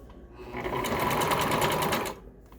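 A sewing machine set to a long basting stitch runs steadily for about a second and a half, stitching a pillow cover with a centered zipper. The whir is close and loud, with soft handling sounds before and after.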